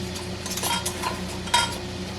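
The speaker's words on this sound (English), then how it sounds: "Now we're going to go through and put our rings on the jars." Metal canning rings being screwed onto glass jars, giving soft scraping and light metallic clinks over a steady background hum, with one sharper clink partway through.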